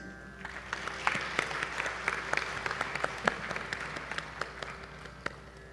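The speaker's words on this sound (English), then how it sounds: "Let's applaud the mridangist." An audience applauds steadily at a Bharatanatyam dance debut recital, with many hands clapping in a dense, sustained burst and a few louder individual claps standing out.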